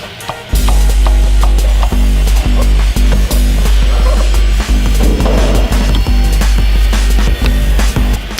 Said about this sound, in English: use the right tool or socket to open it up